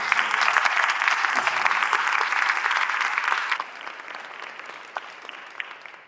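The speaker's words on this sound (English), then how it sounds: "Can we give a round of applause to the" Audience clapping in a church at a choral conducting masterclass, dense and full for a few seconds, then thinning to scattered claps as it dies away.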